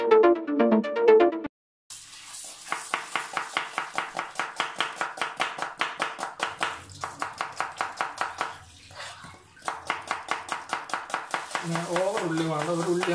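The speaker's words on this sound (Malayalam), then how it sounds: "അവിടെ ഞാൻ ഉള്ളിയും കൂടി ഒന്ന് കട്ട് ചെയ്യാം" An onion is sliced with a knife on a board while cooking a kadachakka (breadfruit) curry, a fast, even run of crisp close chops that pause briefly midway, then resume.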